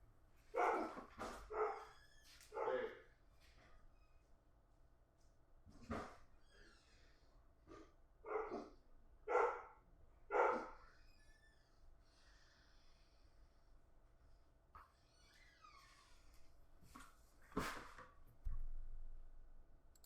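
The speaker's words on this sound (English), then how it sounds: "Dogs are going crazy." Dogs bark at home in scattered loud bursts with snorts and breathy huffs between them, fairly close and with no talking.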